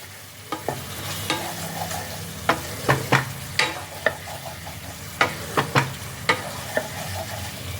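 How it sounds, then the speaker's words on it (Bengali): Masala spice paste being stir-fried in oil until the oil separates, for a cauliflower curry: a close, continuous sizzle broken by a quick series of sharp spatula scrapes and knocks against the pan, with no voices. "মশলাটা ভালোভাবে কষানো হয়ে গেছে দেখো অলরেডি মশলা থেকে তেল রিলিজ করতে আরম্ভ করেছে"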